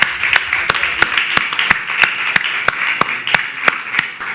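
A church congregation claps in a steady, even rhythm, with sharp loud claps roughly three per second over a sustained bright background of voices and music in a hall.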